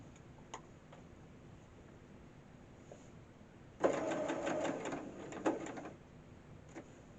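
A sewing machine stitching a Christmas table runner: a quiet room, then about two seconds of fast, rhythmic mechanical whirring and ticking close by that stops abruptly.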